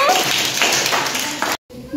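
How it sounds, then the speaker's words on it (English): Seventh-grade pupils in a geography lesson clap for a classmate in a brief, busy burst of close handclaps that cuts off abruptly, with children's voices around it. "Clap for Pranshu"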